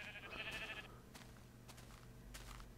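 A sheep bleats once in Minecraft, a short, faint nasal call over quiet game background ambience, followed by scattered soft clicks and taps.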